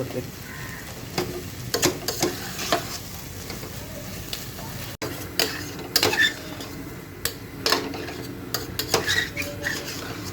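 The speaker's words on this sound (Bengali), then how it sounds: "এভাবে পাঁচ থেকে দশ মিনিটের মধ্যেই নাড়াচাড়া দিয়ে একদম ভাজা ভাজা করে নিয়ে" Pieces of boal fish being stirred and fried in a pan: a steady close sizzle with repeated clinks and scrapes from a spatula.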